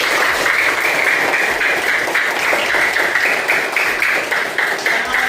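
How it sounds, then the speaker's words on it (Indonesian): A classroom of students claps together in a loud, dense burst that holds steady for several seconds, with a rhythmic tapping pattern running through the noise. "Ya, beri tepuk tangan untuk kita semua."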